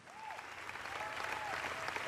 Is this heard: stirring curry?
no